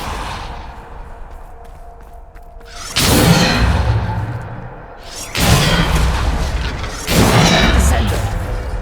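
Bombarda and Descendo spell blasts go off in Hogwarts Legacy as three loud booming bursts with whooshing tails, spaced a couple of seconds apart, after a quieter stretch with faint voice sounds.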